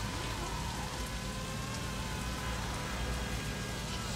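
Steady rain pours in the video game Sleeping Dogs, a dense continuous hiss of drops on surfaces filling the scene at an even level, with no voices over it.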